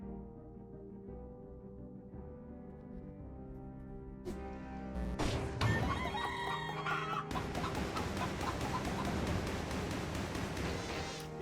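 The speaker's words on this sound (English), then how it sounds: "It does create a lot of chickens though." Chickens in the video game Dead Cells cluck in a layered, busy wash of game sound. A thin tonal passage builds into dense overlapping clucks that persist for several seconds alongside game music and effects.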